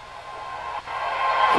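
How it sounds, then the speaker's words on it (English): A swooping whoosh for a cinematic transition, built with a frequency shifter, rising in brightness and intensity across about a second and a half before cutting off sharply, loud and alone. "It's this swoop."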